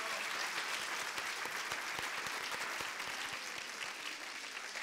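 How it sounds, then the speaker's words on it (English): A festival audience applauds a panel of speakers, steady crowd clapping throughout at a fairly low, distant level with no voices over it. "Please give them all a huge round of applause."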